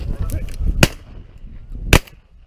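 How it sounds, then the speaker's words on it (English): Two sharp shotgun blasts fired at Canada geese on a September evening, the second about a second after the first, each loud and close with a short echo, over low rumbling wind and faint background murmur. "he fired as well"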